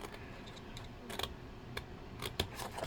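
Scissors snipping paper for a steampunk suitcase craft, a few sharp, quiet cuts and clicks scattered unevenly over a soft room hiss, close to the listener with no talking.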